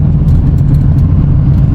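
A pickup truck engine running steadily after a thermostat replacement, a loud, even low rumble close by with no one talking.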